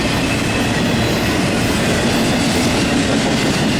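A Union Pacific AC44 and AC45 Evolution series locomotive pair rolls past mid-train on a Norfolk Southern intermodal, a loud, continuous rumble of wheels and rail noise with faint clickety-clack and no voices.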